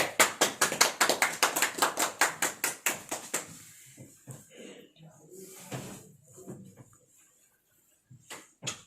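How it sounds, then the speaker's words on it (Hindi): Audience clapping at a social welfare arts event in Doda, a loud burst of rhythmic claps over the first few seconds that thins out into scattered sounds and voices. "जोरदार तालियां बजाइएगा।"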